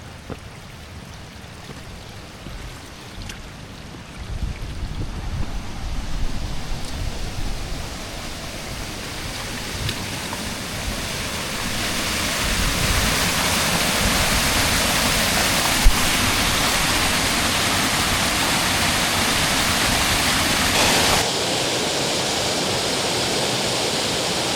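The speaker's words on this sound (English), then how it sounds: "these waterfalls are stunning, but it's only at the very start of this hike" Waterfalls roar near the start of a mountain hike in Scotland, a steady broadband rush of falling water that builds louder partway through and holds without pause, with no voices.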